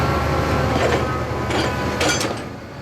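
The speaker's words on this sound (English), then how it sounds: "he sounds different to Mavis when she trundles over the steel bridge." Mavis, a diesel engine from Thomas the Tank Engine, trundles across a steel bridge with a steady loud metallic rumble and a few rhythmic clanking wheel beats that fade slightly at the end.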